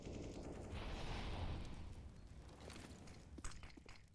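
Dense Counter-Strike gunfire from a professional match at the Paris Major, sustained bursts of rapid shots filling the whole stretch, loud and busy, with a sharper single report near the end and no talk.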